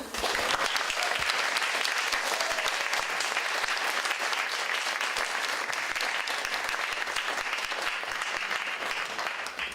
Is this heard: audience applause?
yes